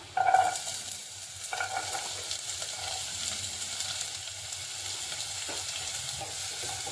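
Carrots, onion and a single green chilli sizzle and fry in a pan, a steady close crackle with occasional stirring scrapes throughout, no voices.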